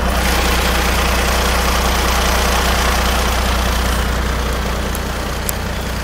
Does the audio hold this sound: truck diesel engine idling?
yes